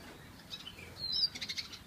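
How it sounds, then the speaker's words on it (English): Caged siskins give thin, high chirps and twittering calls with a brief flutter of wings, close but faint, without speech. "there's another pair of siskins here"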